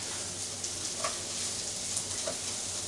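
Rice is stirred in oil and butter with onion and garlic for risotto, giving a soft, steady sizzle with a few light stirring clicks, quiet and without talk.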